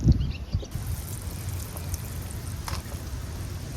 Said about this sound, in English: We're going to water it in really good.